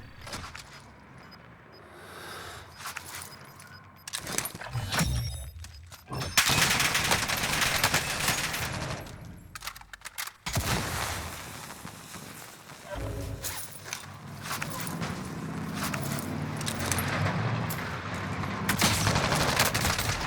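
Hip-fire gunshots in Call of Duty Warzone crackle in rapid bursts and sustained volleys, loud and dense, with brief lulls between strings of fire and scattered game effects around them.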